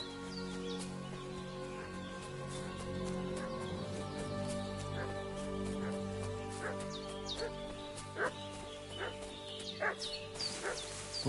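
A dog barking repeatedly in the medieval video game Kingdom Come Deliverance II, a string of yips and barks over quiet ambient music, growing more frequent toward the end.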